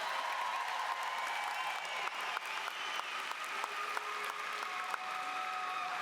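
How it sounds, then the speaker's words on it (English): Dense, steady applause from a large crowd at a high school graduation ceremony, a continuous wash of clapping in a big hall with faint tonal sounds threaded through it. "Can we give them a round of applause, please?"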